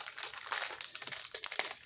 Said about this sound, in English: Get the plastic off of here.